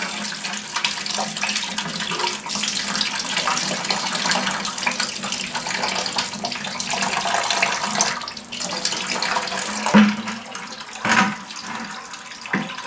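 Coolant spilling and splashing from a removed water pump into a catch container; a continuous hissing pour runs throughout, with a couple of brief clunks near the end.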